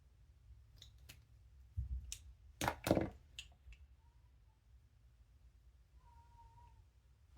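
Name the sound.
cat meowing, crying for owner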